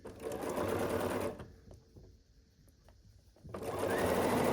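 A sewing machine stitches a quilt block seam in two steady whirring bursts, close and fairly loud, separated by a short quiet pause with light handling clicks.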